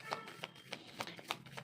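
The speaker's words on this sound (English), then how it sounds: "Let me shuffle and let's get started." A tarot deck being shuffled by hand, giving a quick run of soft, crisp card flicks in an uneven rhythm, close and quiet with no talking.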